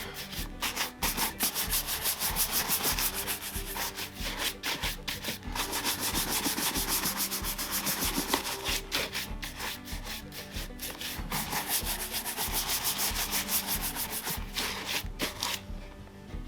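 Brisk brushing of pebble-grain leather Barker boots, rapid repeated bristle strokes up close, steady and rhythmic with brief pauses, no speech.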